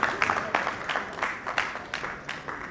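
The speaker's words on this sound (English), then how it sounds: "A nice warm, big round of applause." Audience applause at the inaugural session of the Sugar Ethanol Bio-Energy International 2024 conference: a steady round of many hands clapping, moderately loud, with sharper bursts rising and falling throughout.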